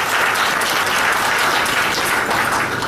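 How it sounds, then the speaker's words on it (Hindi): Audience at a meditation camp discourse in Shahdara, Delhi breaks into sustained applause, a dense, steady wash of many hands clapping at even loudness throughout, with no voices standing out. "इनके लिए सब ताली बजाओ एक बार"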